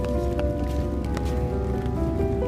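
Steady rain patters on leaves and an umbrella outdoors at Old Sturbridge Village, a constant close hiss with scattered drop taps and no voices.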